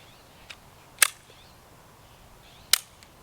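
Shots from a KelTec PMR 30 pistol fired at small mini red solo cups outdoors: two sharp distant cracks about 1.7 seconds apart, with a fainter pop before the first, and no talking.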